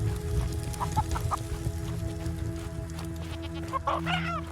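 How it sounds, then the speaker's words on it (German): Chickens cluck and a rooster calls in the video game I Am Jesus Christ, several short clucks scattered over a steady game ambience with a soft rain-like hiss beneath. "hat mich da gerade wer angegackert?"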